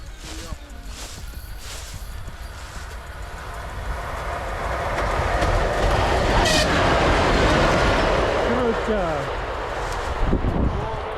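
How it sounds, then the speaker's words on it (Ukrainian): A train rolls past a group of cyclists on a hot day on a rural route between Yaropovychi and Zhytomyr in Ukraine, building from a distant rumble to a loud, close, sustained roar of wagons with rhythmic wheel clatter. "А ось і потяг."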